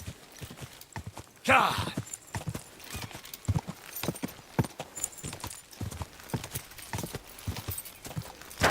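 Horse hooves clip-clop in a steady gallop within the medieval game Kingdom Come: Deliverance II, close and rhythmic, with a brief sharp shout from a man over the hoofbeats.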